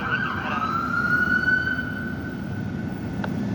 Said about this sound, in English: That's just a regular ambulance.